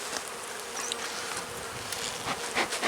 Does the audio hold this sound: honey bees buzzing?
yes